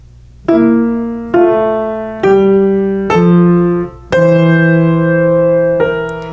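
Piano playing a short passage of moving notes, with a detached, staccato right hand over a smooth legato left hand. About six distinct note attacks land roughly every second, each ringing on with rich harmonics, close and solo with no talking.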